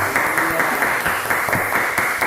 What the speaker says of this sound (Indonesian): Tepuk tangan untuk kelompok harimau.